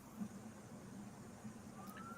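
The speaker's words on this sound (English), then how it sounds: "it sounds like a police officer coming through. Or an ambulance, it may be." A police or ambulance siren plays from a TV program on a computer, faint and distant beneath a low room hum.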